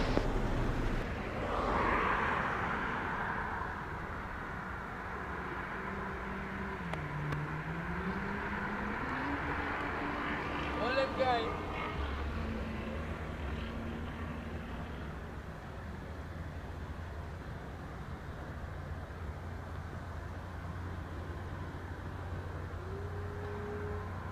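A Boeing 777 airliner takes off from runway 07 at Sangster airport in Montego Bay, Jamaica, its engines giving a steady, broad roar and whine that holds at a moderate level throughout.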